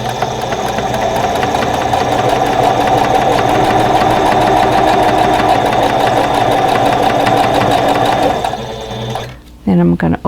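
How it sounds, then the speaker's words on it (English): A sewing machine stitches a quilt block piece, running in a loud, close, steady buzzing whir for about eight seconds before stopping abruptly, followed by a brief voice. "grab the third piece in that row, in row 1, and sew that one on."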